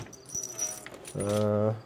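Keys jangle briefly near the start while searching for misplaced keys, small metallic clinks followed by a short voiced hum-like sound at the end.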